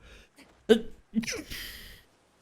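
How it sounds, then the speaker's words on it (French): A stifled sneeze: a couple of quick sharp breaths followed by a muffled, held-back burst and a short hissing exhale, close and fairly quiet. "Attends, je vais éternuer là."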